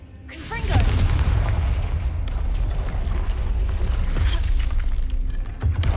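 The Confringo spell explodes in Hogwarts Legacy. A whooshing launch gives way to a loud rumbling blast with crackling debris that sustains for several seconds, with a fresh thump at the end.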